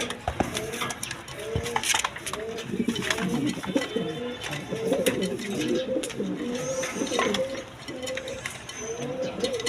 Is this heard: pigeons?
yes